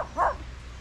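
A single short woof from a large dog on a walk in the Colombian countryside, brief and moderately close, with quiet outdoor background after it.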